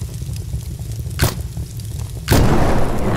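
A grenade blows up in the Brick Rigs video game, a faint thump first and then a loud booming blast that cuts in and holds through the end over a steady game hum.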